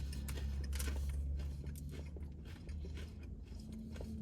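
Someone bites into a crunchy cornflake-coated chicken tender, with close crunching and chewing through several seconds of soft, irregular mouth sounds.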